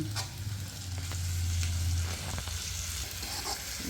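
Peas for pickle frying in a pan, stirred with steady sizzling and occasional scraping clicks of the spoon, close and continuous with no talking.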